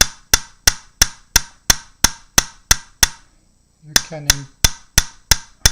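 A hammer taps gold inlay into a steel surface in a steady run of about a dozen sharp, close metallic strikes, pauses while a voice speaks briefly, then resumes tapping.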